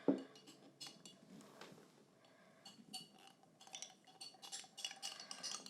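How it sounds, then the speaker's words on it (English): Paintbrush rinsed in a water cup: soft clinks and taps of bristles and ferrule against the cup with light swishing of water, close and quiet, scattered irregularly over several seconds. "now what we can do is rinse our brush"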